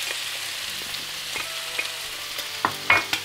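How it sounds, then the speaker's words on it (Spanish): Vegetables with pepper being sautéed in a pan for a seafood fideuà, with a steady close sizzle and occasional clinks of a utensil stirring, no talking. "Esto es importante que se rehogue porque así le suelta un poquito ese juguillo que ya tiene"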